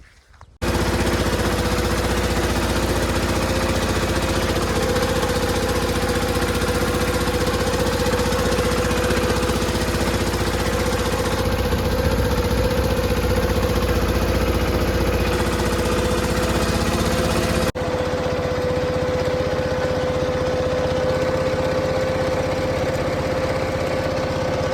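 A small tractor's engine runs steadily at a constant idle, with a buzzing mechanical drone. A thin high whine joins partway through, and the engine tone shifts slightly near the end. No one speaks.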